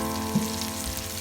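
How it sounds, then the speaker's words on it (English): Masala fish shallow-frying in oil in a pan makes a continuous, close sizzle that holds steady through the brief moment, with one faint knock of the fish or a utensil being moved. "you can keep moving the fish around to make sure that the sides are cooked well"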